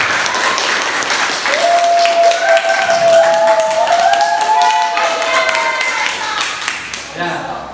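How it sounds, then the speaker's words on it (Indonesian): An audience of students applauds after classroom presentations, a loud sustained round of clapping with tapping while voices call out over it, fading near the end. "Saya minta semuanya untuk tepuk tangan sekali lagi."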